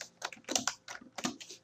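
Fingers type on a computer keyboard in quick, irregular bursts of close, crisp key clicks, with no talking over them.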